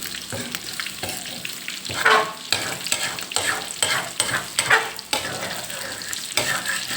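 Thai fish cakes made from mackerel deep-fry in hot oil, a steady close sizzle broken by repeated stirring scrapes and splashes, with no talk.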